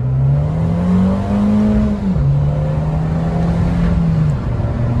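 A tuned car's engine drones loud and close from inside the cabin, its pitch holding, dipping briefly and settling again as it revs through gear changes, with no talk heard.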